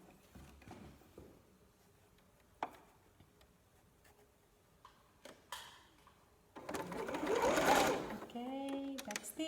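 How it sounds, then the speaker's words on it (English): A sewing machine backstitches a zigzag seam through T-shirt fabric, starting with scattered taps and short bursts, then running in a loud sustained whir near the end as a voice speaks over it. "With the same zigzag we have been sewing, backstitch a lot."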